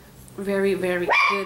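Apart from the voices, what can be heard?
dog barking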